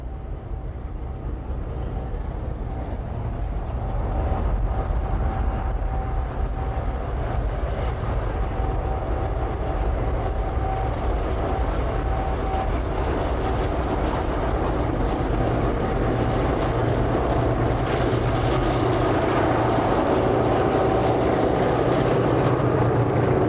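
Freight train led by locomotives T409 and S312 hauling empty quarry wagons over a hill, a steady loud diesel rumble and engine drone building slightly as it nears, with no voices.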